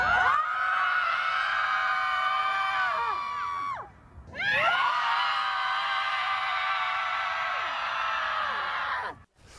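Women screaming in a played recording, several high sustained shrieks layered together, loud and continuous with a brief dip near the middle before rising again, then cutting off abruptly at the end.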